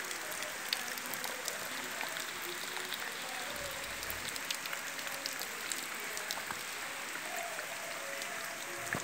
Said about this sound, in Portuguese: Muita chuva aqui na região aqui de Irará